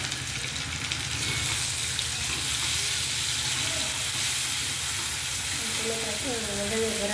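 Onions and tomatoes frying in a pan for green pea ragda, a steady close sizzle running throughout with faint stirring, bubbling rising near the end, no talking.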